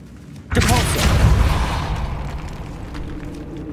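A Depulso spell cast in Hogwarts Legacy bursts out as a sudden loud whooshing blast, then trails off into a sustained rumbling wash.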